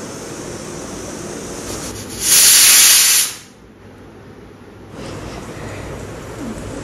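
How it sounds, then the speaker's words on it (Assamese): A pressure cooker whistle venting steam while a dish of banana flower cooks, a sharp, loud hiss bursting out for about a second over a steady background rush, then cutting off abruptly. "এয়া বনি আছে, প্ৰেছাৰ হুইচেল মাৰিব আৰু এতিয়া।"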